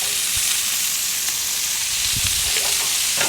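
Oiled onions seasoned with lemon pepper sizzle on a grill in a constant loud broadband hiss, with a few faint low knocks and no voices.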